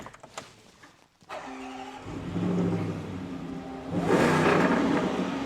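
After a brief pause, a starter whirs and the 5.0 V8 of a 2023 Land Rover Defender 110 fires up with a rising roar, settling into a burbling idle before revving louder again.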